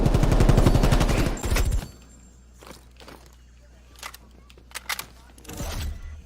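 Rapid AK rifle fire in Call of Duty Cold War, a loud automatic burst in the first two seconds, followed by quieter scattered shots, footsteps and game effects, with a few sharp later reports.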